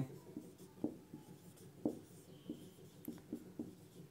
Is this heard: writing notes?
yes